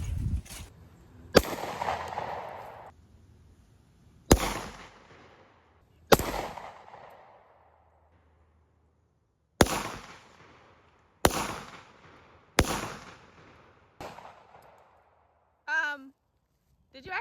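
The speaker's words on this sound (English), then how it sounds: "And now we're shooting a handgun." Seven or eight sharp handgun shots fired at pumpkins outdoors, spaced irregularly a second or more apart, each with a short echoing tail, with a brief bit of voice near the end.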